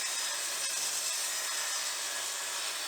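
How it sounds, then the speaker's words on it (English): A bandsaw cuts through a wooden scaffold board with a steady, continuous whirring hiss that holds at an even level throughout, close by, with no talking. "cutting it through on a bandsaw"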